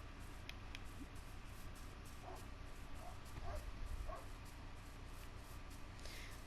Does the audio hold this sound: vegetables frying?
no